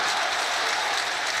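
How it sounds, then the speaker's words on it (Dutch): Dense, steady applause from a large football stadium crowd at the Jan Breidel stadium during Club Brugge versus Atlético, continuous and fairly loud throughout with no voices standing out. "Luid applaus in Jan Breidel"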